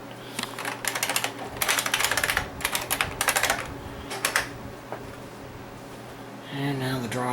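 A tape drive running after being power cycled with a tape loaded, giving bursts of rapid clicking and chattering mechanical activity followed by a quieter whir and a rising tonal hum near the end.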